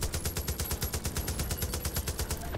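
A mounted turret in Far Cry 5 fires in a rapid, even burst of gunshots for the whole stretch. The fire is loud and sustained, with no voices over it.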